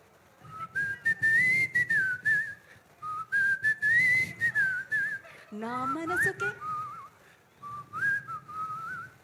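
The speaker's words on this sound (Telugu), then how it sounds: "ఒకసారి విజిల్ వేయాల్సిందే విజిల్తో పాడతారా విజిల్తో పాడాలి" A person whistles a tune in clear, bright phrases with short pauses between them, joined midway by a sliding vocal passage.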